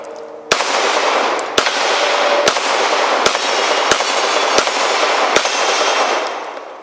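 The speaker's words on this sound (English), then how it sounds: "I'll go double action first on that propane tank." Seven sharp, loud pistol shots from a CZ P-09 fired double action at a propane tank, spaced roughly a second apart, each with a brief ringing tail outdoors.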